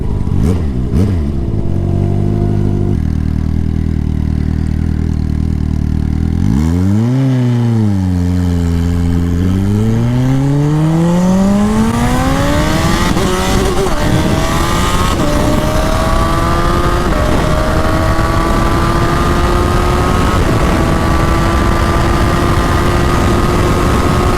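A 300 hp Suzuki Hayabusa motorcycle launches on a half-mile airstrip run, its engine rising loud and close through the gears with a rough, misshifted change from first to second before pulling hard at high revs.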